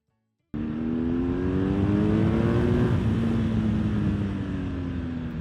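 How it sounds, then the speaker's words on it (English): A BMW R1250GS motorcycle on a test ride starts with a sudden loud engine drone that rises in pitch, then settles into a steady, close hum. "jump on the BMW and go out for a little bit of a test ride"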